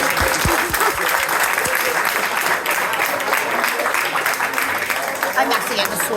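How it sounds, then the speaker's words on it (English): Party guests give a big round of applause for people on stage, dense clapping that runs continuously with a few louder claps up front, and voices mixed in. "Big round of applause to these people up here on stage."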